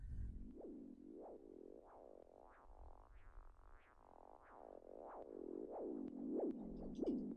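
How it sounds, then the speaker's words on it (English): A squelchy saw-wave synth plays a repeating dotted-quarter rhythm, each note swelling with a resonant filter sweep, about eleven evenly spaced hits over a steady low bass bed, loud and alone in an electronic dance track. "it's kind of a squelch based sound. So it's a saw wave being played at a 1/4 dotted note"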